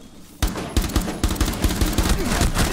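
Rapid bursts of automatic gunfire in Rainbow Six Siege, loud and close, firing in a steady rattling rhythm after a brief quiet start.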